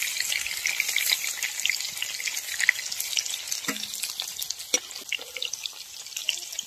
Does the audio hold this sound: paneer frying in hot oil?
yes